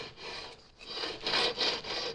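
A levelling beam with 80-grit sandpaper rubs across guitar frets in a few short rasping strokes, faint and close, with a soft gritty scrape rising and falling.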